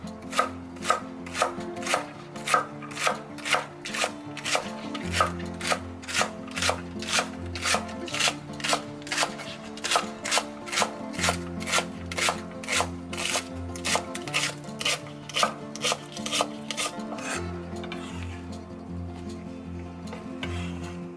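Green onion chopped with a knife for kkakdugi, a steady run of crisp, evenly spaced blade knocks on a cutting board, close and clear with no talking, continuing for about twenty seconds.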